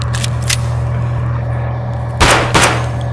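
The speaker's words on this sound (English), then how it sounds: "Oh, you shot him in the head." Gunfire in the video game Escape From Tarkov, with two sharp, loud shots in quick succession over a steady game-ambience hum.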